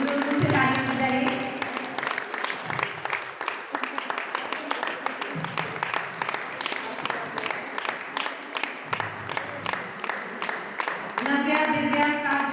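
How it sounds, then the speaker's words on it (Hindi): Audience applause at a school event, many hands clapping in a dense, sustained patter that swells at the start and again near the end, loud and continuous throughout. "तो जोर से तालियां बजाइए"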